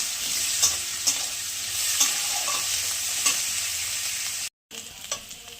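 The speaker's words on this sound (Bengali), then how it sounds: "এবার কাঁচা লঙ্কা, রসুন, পেঁয়াজ একটু, এগুলো একটু ভেজে নেব।" Black cumin, green chili, garlic and onion fry in hot oil with a steady, close sizzle. A spatula stirs and scrapes the pan at regular intervals, with a brief gap near the end.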